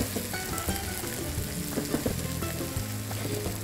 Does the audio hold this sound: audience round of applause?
no